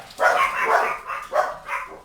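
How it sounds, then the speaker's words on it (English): Dogs bark indoors in a quick series of about four or five sharp, close barks with short gaps between them, clear and fairly loud with no talk over them. "I think I just made my dogs bark."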